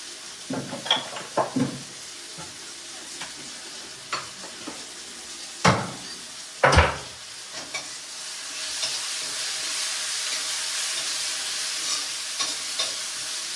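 Black peppercorns land in a hot pan with tomato cooking and sizzle quietly, a soft steady frying hiss broken by several sharp clinks and scrapes of a spoon stirring against the pan.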